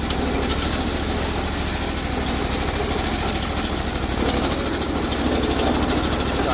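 A 20 hp Bolens 1600H Hydro garden tractor engine runs loud and close in a steady, throbbing idle, its dense mechanical rumble filling the whole stretch without a break.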